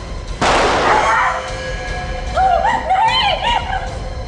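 A single gunshot fired at someone fleeing in a crime drama scene, one sharp loud burst followed by a short rumbling tail, then tonal dramatic music carrying on behind.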